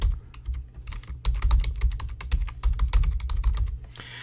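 Fingers typing a password on a computer keyboard, a rapid run of close, crisp key clicks in uneven bursts, heard alone with no voices.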